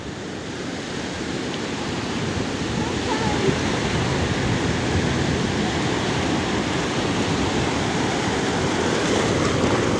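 Waves rising on the beach at Morro Branco, a steady roaring wash of surf that builds slightly and stays loud and continuous throughout.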